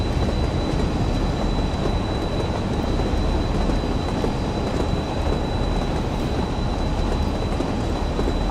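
BR Class 45 diesel locomotive coasting with the throttle shut in the Train Sim World game, a steady low rumble and rolling rail noise that holds even throughout, with a thin constant whine above it.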